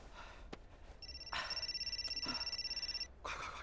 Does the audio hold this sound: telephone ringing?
yes